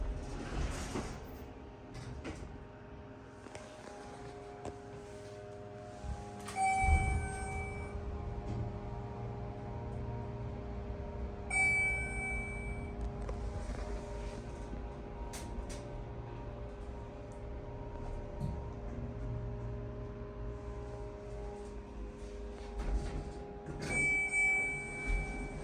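A Schindler 300A elevator door slides shut, a soft mechanical rumble with faint chimes and clicks over a steady hum, heard alone with no talking.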